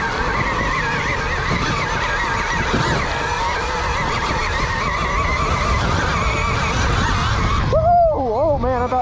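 A dirt bike engine revs hard and steady for several seconds while the front wheel lifts into a wheelie in mid-Ohio, then the pitch sweeps up and down near the end as the rider backs off.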